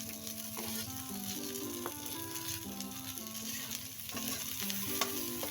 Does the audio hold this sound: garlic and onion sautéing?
yes